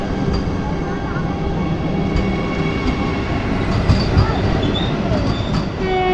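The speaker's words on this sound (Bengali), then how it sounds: "এই বন্দে ভারত ট্রেন কিন্তু দাঁড়িয়ে রয়েছে রাঁচি বন্দে ভারতে।" A Vande Bharat train on the Ranchi route sits on the line with a continuous rail rumble and faint wheel squeals, loud and close, under light background voices.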